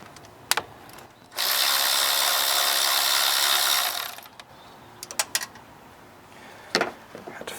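A hand ratchet backs off a 10 millimeter nut on a 2007 Honda Accord 2.4L engine, a close, rapid clicking burst lasting a few seconds, with scattered metallic taps and clinks before and after.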